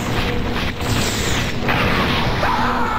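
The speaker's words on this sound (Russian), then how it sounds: "Вот эта штука взрывается, когда меня убивает." Deep booming blasts and crashing bursts from an exploding object in a video game, loud and continuous under a noisy rumble of game sound.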